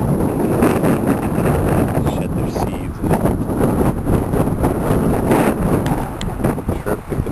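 Wind roars across the microphone on a mountain bicycle ride in the Shawangunks, a loud, continuous buffeting rumble with gusty surges that mask most other sound.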